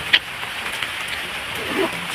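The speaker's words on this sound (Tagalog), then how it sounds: "Malakas na ulan dito mga kabady." Steady, dense typhoon rain hissing and pattering continuously, close by and fairly loud, with no voices.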